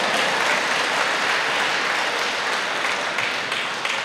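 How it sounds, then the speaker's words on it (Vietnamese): An audience at a religious talk on reading Scripture breaks into steady applause, a dense, even patter of many hands that tapers slightly toward the end, with no talking. "Vỗ tay."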